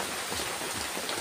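Heavy rain pours down steadily in a dense, constant hiss of drops drumming on surfaces, loud and close, with no voices over it.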